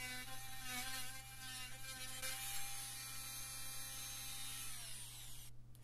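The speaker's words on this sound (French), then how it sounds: "Ici, je découpe les excédents avec un outil multifonction." An oscillating multi-tool trims excess material while building a camping-car urn, giving a continuous high buzzing whine with shifting pitch that cuts off abruptly at the end.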